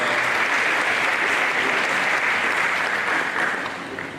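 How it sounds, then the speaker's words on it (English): A forum audience gives a round of applause to dignitaries at an economic development event. Thick, uniform clapping fills the room, then tapers off toward the end. "Please let's give them a round of applause."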